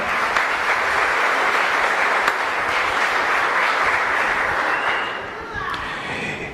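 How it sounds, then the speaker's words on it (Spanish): Congregation clapping loudly at the close of a Catholic Mass in a parish church, a thick continuous burst of many hands that stays strong throughout and dips slightly toward the end. "Fuerte aplauso para la comunidad"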